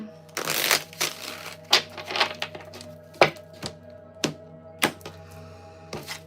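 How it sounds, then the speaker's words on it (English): Crisp riffling and snapping of tarot cards being shuffled, a series of quick bursts with short pauses between, close and clear with no talking. "One more shuffle."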